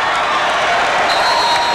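A packed arena crowd at a 1989 Illinois versus Iowa college basketball game, a loud, sustained roar of cheering and applause filling the whole moment without a break.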